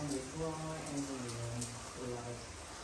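Steady rain falls on a piazza in Radicofani, Italy, a soft continuous hiss and patter heard from under shelter, with people talking over it.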